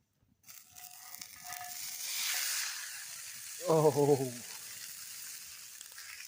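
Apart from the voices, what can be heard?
food sizzling in pan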